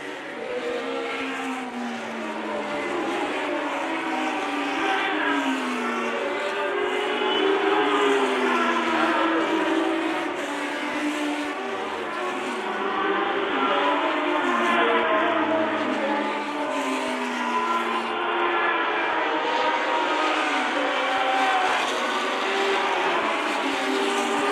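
Historic Formula race cars at the 2015 Reunion accelerate hard uphill away from the start, a dense overlapping chorus of high-revving engines with rising, sweeping pitches, loud and continuous with no talk.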